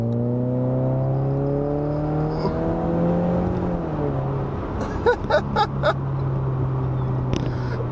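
Subaru Impreza with a CVT and a loud Nameless Performance aftermarket exhaust accelerating, a steady droning engine note rising smoothly in pitch, close and prominent, with a few sharp clicks and knocks near the end.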